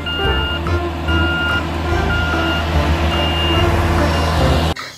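A road roller used for flattening asphalt roads gives off a steady series of high reversing beeps over a constant low engine rumble, loud and close, with a dump truck nearby.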